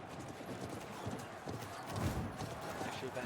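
Cavalry horses in the battle game Conqueror's Blade make a dense, continuous clatter of many hooves at steady volume, with an occasional whinny and someone talking over them.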